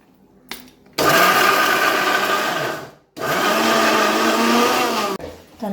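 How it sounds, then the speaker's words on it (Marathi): An electric mixer grinder whirs at high speed while grinding ingredients for soybean kababs, in two loud sustained bursts of about two seconds each, separated by a brief pause, with no talking. "आता होत आहे मिक्सर बारीक."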